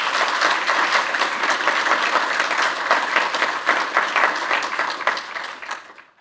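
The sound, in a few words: audience applause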